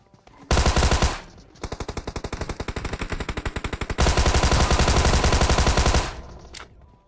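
A Tommy gun fires in a battle royale video game: loud sustained bursts of automatic fire, first a short burst, then a long run of rapid evenly spaced shots, then a dense roar that ends abruptly.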